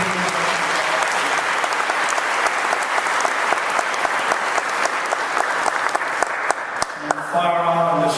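An audience gives a long, loud round of applause for Susie Goldhirsch, steady and dense for about seven seconds before a voice starts speaking as the clapping ends.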